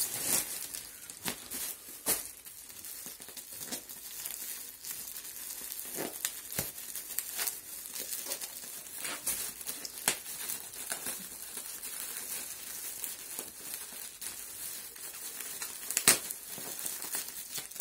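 A plastic package is unpacked up close, giving quiet, scattered crinkles and crackles with sharper rustling snaps now and then against a soft background hiss.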